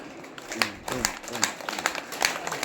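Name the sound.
hand clapping demonstration during Jain sermon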